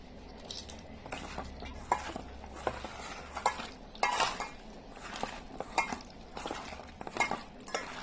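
Small morola fish are mixed by hand with a spicy paste for jhal paturi, making quiet, close, irregular wet squelches and soft taps against the bowl, with no talking.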